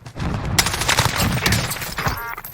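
Rapid automatic rifle fire in Call of Duty Warzone, using a FARA 83 assault rifle, crackles loudly in dense overlapping bursts, with sharp impacts and a brief pause before more shots.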